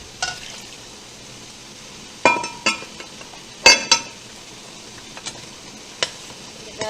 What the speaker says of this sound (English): Give that a good stir where you can mix everything pretty good.